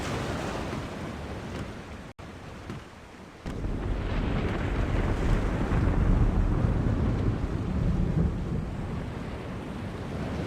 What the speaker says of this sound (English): The storm is closing in.